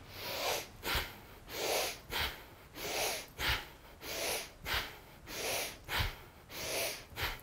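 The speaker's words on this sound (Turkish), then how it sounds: "nefes alırken dirsekler yukarıda, nefes verirken dirsekleri gövdemizin iki yanına bir körük gibi itiyor olacağız" Forceful rhythmic breath of fire from a kriya yoga exercise, about a dozen sharp nasal exhalations and inhalations in a steady bellows-like pattern. The breaths are close, loud and clear, with no talk.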